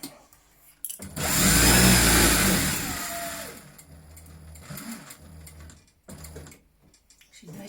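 A domestic sewing machine stitching a seam on a fabric face mask, with a loud steady motor whir for about three seconds, then quieter, uneven running and short pauses as the stitching slows.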